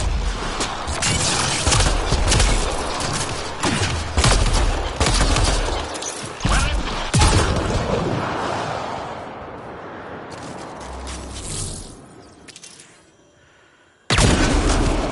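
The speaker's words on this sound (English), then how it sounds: "Shooting the device will destroy it." Gunfire aimed at a Ket device in Mass Effect Andromeda: loud rapid bursts of weapon fire hammering for several seconds, then tapering into a quieter fading tail before one more abrupt loud burst near the end.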